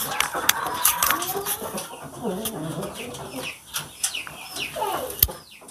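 Ekor Lidi chickens clucking and calling nearby amid other bird chatter, with occasional sharp squawks and wing flutters.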